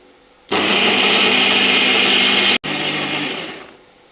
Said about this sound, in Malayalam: ഇനി ഇത് നല്ല വൃത്തിയായിട്ട് അരച്ചുകൊണ്ട് വരാം.